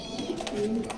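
Pigeons coo softly inside a pigeon loft, a short low warbling call heard close by for about a second.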